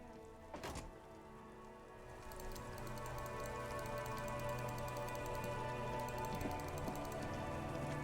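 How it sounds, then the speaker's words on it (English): Steady rain falls in the video game Disco Elysium, a soft continuous patter that builds slightly after a faint thunk near the start, with a quiet background tone underneath. "It's raining again."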